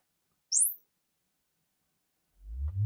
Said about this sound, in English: There's the sweep, ladies and gentlemen, and the chirp.